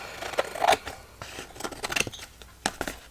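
Scissors trimming excess paper from around a handmade hidden-paperclip matchbook notebook, several short crisp snips and rustles in quick succession, close and alone.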